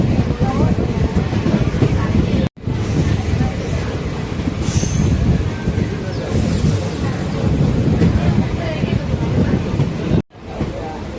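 A crowded passenger train running from Madurai to Coimbatore near Samayanallur station, a loud continuous rumble of wheels and carriages with a high squeal, heard from inside alongside the hum of passengers.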